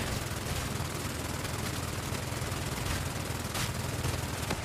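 Sustained automatic gunfire in the Call of Duty zombies map Beast from Beyond, a loud, unbroken stream of rapid shots blended with dense game noise, close and continuous throughout.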